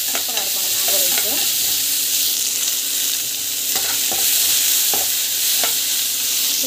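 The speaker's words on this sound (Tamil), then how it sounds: "நல்லா வதங்கட்டும்" Curry leaves, onion and turmeric sautéing in a pan for mango rice, a continuous soft sizzle with occasional stirring scrapes and light pops, steady and close with no talking.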